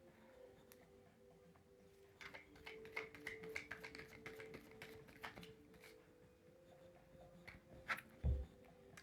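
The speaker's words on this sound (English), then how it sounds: "I'm going to shuffle again." Tarot cards shuffled by hand, a faint run of quick, irregular papery taps and ticks with a louder thump near the end, heard close and alone without speech.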